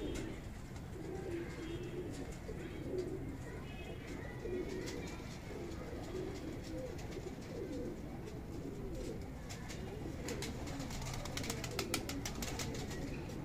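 Soft, low pigeon coos repeat over a steady outdoor hum, with faint rustling and a few light taps toward the end.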